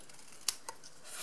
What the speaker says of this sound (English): Then just cut the end, cut it up the middle